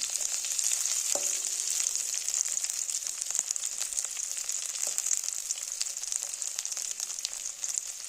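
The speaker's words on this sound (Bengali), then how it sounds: "আমার তেল গরম হয়ে গেছে এখন পেঁয়াজটা ভালো করে ভেজে নিই লাল লাল করে ভেজে তুলে নেবো" Onions fry in hot oil for a steamed rohu fish dish, an even, moderately soft sizzle with light crackles and a couple of quick stirring knocks, heard alone.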